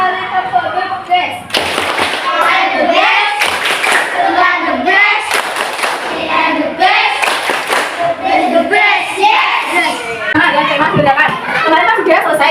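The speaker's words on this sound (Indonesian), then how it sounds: "silakan tepuk bedes dulu 1 kali tepuk bedes." Indonesian primary school pupils perform a rhythmic clapping routine in a classroom, with bursts of loud group claps mixed with children's voices and chatter throughout.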